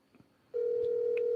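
Telephone ringback tone on an unanswered call: a steady, close electronic tone starts abruptly after a brief quiet moment and holds, with faint background sounds and no talk.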